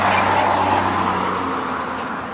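Steady traffic roar at a bus stop, cars passing continuously at moderate distance, loud and fairly constant, slowly fading slightly toward the end with no talking.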